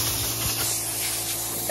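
A continuous loud hiss of pressurized spray runs throughout, close up and unbroken for the short span.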